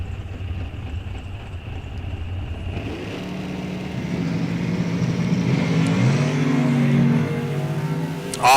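A pair of box door drag race cars launch off the line together, engines rising from a low idle rumble into a loud, building roar that carries down the strip, with no talk over it.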